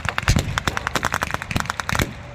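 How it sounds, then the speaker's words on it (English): Rapid gunfire during a military battle reenactment, dense volleys of loud sharp cracks firing relentlessly from both sides, close and continuous for a couple of seconds before cutting off. "Beneath the ball of smoke, the forces on both sides are firing relentlessly."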